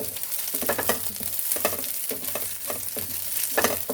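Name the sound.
green chillies frying in a pan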